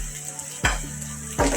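Ginger garlic paste and chopped green chillies frying in a pan for chicken curry, a steady low sizzle broken by two sharp bursts of hissing as more goes into the hot oil.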